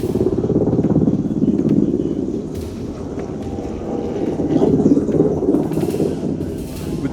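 Steady loud rotor and engine roar of a US Coast Guard helicopter hovering low over the bow of a working tugboat at sea, a continuous dense drone with no talk.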